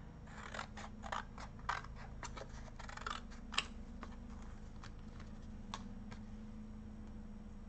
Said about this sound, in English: I gotta trim another piece here